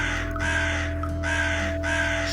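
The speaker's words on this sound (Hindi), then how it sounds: "कौवे ने जाकर शेर के आगे आवाज लगाई।" Cartoon crow in a Hindi Panchatantra story giving repeated harsh caws in a steady rhythm, loud and close, over a constant tonal background hum with no speech.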